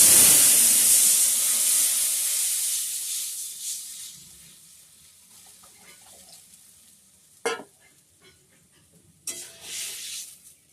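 Tamarind water poured into a hot cooking pan, starting with a loud hiss and sizzle that fades to quiet simmering, then a couple of short clatters of a utensil, no talking.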